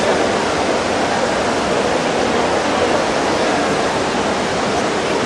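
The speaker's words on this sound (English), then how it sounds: "You've heard of the famous fountain of Trevi." Water splashing and pouring in the Trevi Fountain in Rome makes a steady, dense rushing wash that stays close and unbroken throughout, with no talking.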